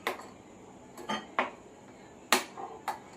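A spoon clinks against a bowl or jar while lemon juice is stirred into coriander chutney, six or seven sharp, quiet metallic taps spaced irregularly, with no talking.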